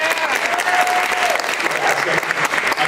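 Continuous, even applause from a panel audience at an entertainment designers forum, dense and close throughout the short stretch.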